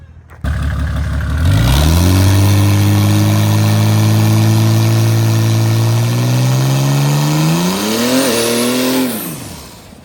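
A diesel car engine, from a drag race lineup including Mercedes OM606, OM603 and OM617 diesels against an LS1, idles loudly and close, then holds a steady rumbling drone and revs up and down near the end before cutting off.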